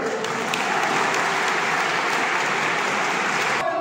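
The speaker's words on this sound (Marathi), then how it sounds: "जोरदार टाळ्या वाजवा" Loud, dense applause from a crowd, steady and continuous throughout before cutting off abruptly near the end.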